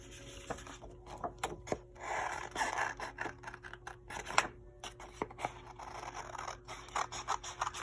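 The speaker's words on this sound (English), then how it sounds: "Now we're going to cut them out." Scissors snip through blue scrap paper while cutting out traced hot air balloon shapes, giving a close, quiet run of short crisp cuts and rustling paper with no talk.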